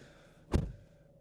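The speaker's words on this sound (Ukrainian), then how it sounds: "Закриваю зараз двері." A single solid thump of a 2016 Nissan Qashqai car door shutting, brief and close, with quiet surroundings before and after.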